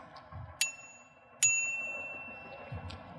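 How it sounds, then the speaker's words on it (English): A bicycle bell rings twice, two sharp bright dings about a second apart, each trailing a short metallic ring over faint background noise. "make sure you ring your bell so that they know that you're coming past"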